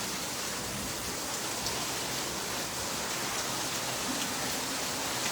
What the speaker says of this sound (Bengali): এখানে প্রচুর বৃষ্টি হচ্ছে